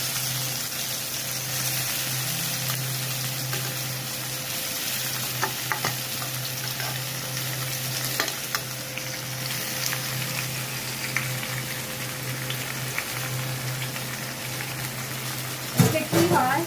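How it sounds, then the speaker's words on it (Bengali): Chopped okra fries in hot oil in a home kitchen, a steady close sizzle with a few scrapes of stirring over a faint hum. "এবার তেল গরম হয়ে গেছে, এই তেলে এই ভেন্ডিগুলো ছেড়ে দেবেন।"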